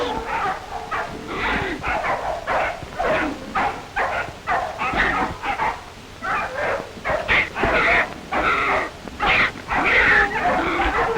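Puppies at play in 1933 footage give repeated short yips, barks and whimpers in irregular bursts, close and fairly loud, with someone narrating over them.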